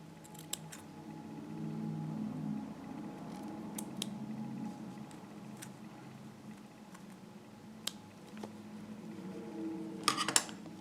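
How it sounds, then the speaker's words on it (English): Quiet snipping of scissors with scattered small clicks and a low background hum, a few faint cuts and a brief cluster of rustling near the end. "use our scissors to cut out a little tiny snake tongue shaped"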